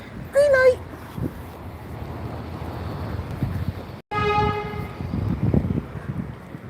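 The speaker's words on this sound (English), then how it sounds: "Looks like we also have Great Western Railway locomotive arriving too." A train horn sounds in a sustained harmonic blast as a Great Western Railway locomotive arrives and rumbles past in Gloucester, with steady track and engine noise under a brief voice at the start.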